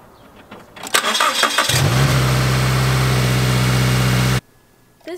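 A Nissan 350Z being started with a jump starter pack: a short cranking whir catches into a loud, steady idle with a low hum. The engine runs for a few seconds, then cuts off abruptly into near silence.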